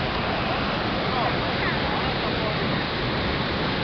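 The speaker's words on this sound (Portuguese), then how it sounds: "Cachoeira é bonita pra caramba." The Cachoeira de Santo Antônio waterfall at Morro Vermelho, Minas Gerais, roars as a dense, constant rush of falling water that fills the whole stretch without a break.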